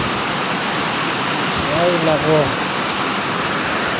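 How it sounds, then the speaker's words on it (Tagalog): Heavy rain pours down as a dense, loud, unbroken hiss across the whole stretch, with a person speaking briefly beneath it partway through. "Ulan ng ulan."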